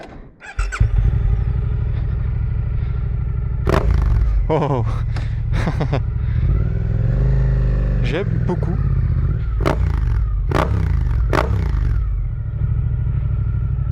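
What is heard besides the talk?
sport motorcycle engine revving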